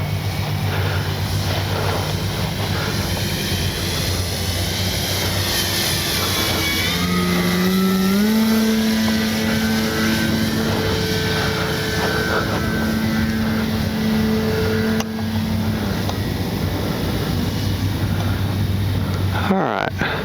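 A small Durafly Slowpoke radio-controlled model airplane's motor whines steadily overhead on its first flight, its pitch rising and falling as it maneuvers, while someone talks over the drone.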